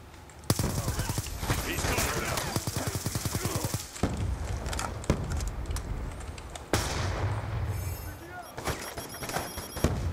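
Rapid automatic gunfire bursts in Black Ops 2, the game, loud and close with repeated sharp shots, pauses and a few heavier booms, alongside game voice and effects.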